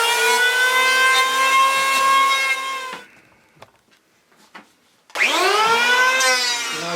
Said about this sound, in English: Another nice piece to put in the bandsaw.